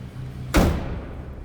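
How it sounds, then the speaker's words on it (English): A car door on a 1939 LaSalle Series 50 coupe shuts with a single solid, close thump, followed by a brief fading rattle over the low engine hum. "Door closes nicely."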